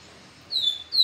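A papa-capim seedeater sings two short, high, clear chirping phrases, nearby and fairly loud over a quiet background.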